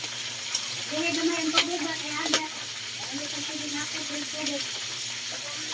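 Pork belly for lechon kawali fries in hot oil with a steady broadband sizzle, punctuated by a few sharper crackles and pops while something stirs it; a faint murmur of voices sits low in the background.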